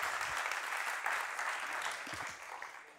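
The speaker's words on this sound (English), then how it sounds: "They're clapping for you, not just the way you wash up" Patrons at a bar show in Athens applaud, a continuous soft wash of many hands clapping that fades slightly toward the end, heard from some distance.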